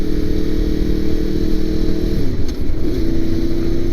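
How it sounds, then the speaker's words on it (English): A 2002 Honda VFR800 motorcycle engine pulls steadily and loudly at close range, its drone shifting pitch about two and a half seconds in as it switches over to VTEC, then carrying on at a higher, harder note. "I want to know if you guys heard it when it switched over to the VTEC."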